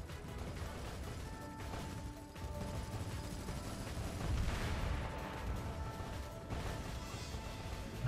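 Naval cannons and airstrikes in the mobile game Azur Lane make a dense, continuous barrage of booms and crashing impacts layered with mechanical tones, fairly quiet overall, swelling midway, with no voice.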